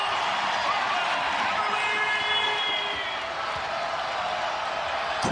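A large basketball arena crowd at Wichita State roars and cheers steadily, loud and sustained, with whistles and whoops rising through the noise.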